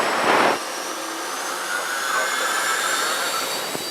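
Jet Provost JP5 jet engine spooling up on the runway with brakes held, a steady broadband turbine roar with a rising whine, loud and continuous, opening with a brief louder burst.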